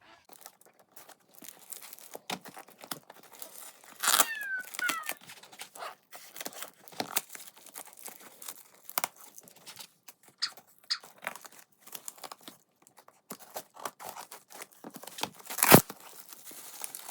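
A cardboard box holding a grey Little Live Cuddles My Dream Kitten toy is pried open with scattered close tearing, crinkling and crunching bursts, irregular and mostly quiet, with a few sharper rips standing out.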